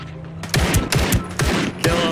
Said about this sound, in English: Shit, I'm being shot at.